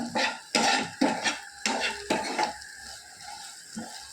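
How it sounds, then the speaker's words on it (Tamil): Food is stirred and sautéed in a pan over medium heat, with a spatula scraping in rhythmic, repeated strokes against the metal, about two per second, then slowing and growing quieter. "நல்லா கிளறி விட்டுக்கிட்டே வதக்கி விட்டுட்டே இருக்கணும்"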